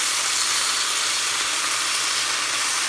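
Johnsonville maple sausage strips sizzling in a teaspoon of oil in a pan, producing a continuous bright, hissing crackle that holds steady throughout.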